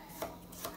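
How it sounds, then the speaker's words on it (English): A knife cuts green beans in half on a board, giving two quick, soft chops about half a second apart, faint and close, with no talking. "Green bean. Cut in half."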